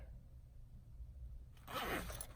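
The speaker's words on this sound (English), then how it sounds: "and it zips really, really easily." A zipper closes on a JuJuBe Rose Quartz Mini Helix bag, one quick rasping pull near the end after a quiet stretch.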